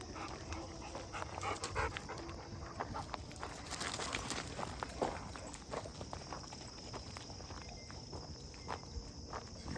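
Hound dogs out on a nature walk pant steadily and pad along close by, their footsteps and rustling mixing with insects chirping in the background for several seconds.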